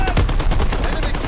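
An artillery barrage in Call of Duty WWII comes as a rapid, dense string of loud booming bursts, close and continuous over the whole moment, with no voices.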